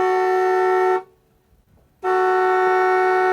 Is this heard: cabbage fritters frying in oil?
no